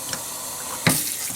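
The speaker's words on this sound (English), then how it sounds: "Now we're just going to run our hot water" Hot tap water runs steadily over raw unseasoned ground beef in a kitchen sink, a continuous close hiss and splash with a brief louder gush partway through.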